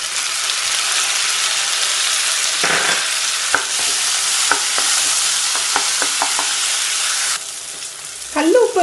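Onion and tomatoes fry in a pan with a steady, close sizzle. Spoon stirs clack and scrape against the metal through most of the stretch, then the sizzle drops back and a brief rustle ends it.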